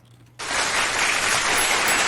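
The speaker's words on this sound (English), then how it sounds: "You got the round of applause queued up." A recorded applause sound effect played in a podcast studio starts abruptly after a brief quiet moment, then continues as a loud, dense, even burst of crowd clapping.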